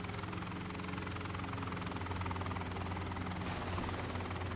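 Helicopter engine in the Garry's Mod video game, a steady low droning hum with a rotor-like throb that holds loud and unbroken throughout, with no voices over it.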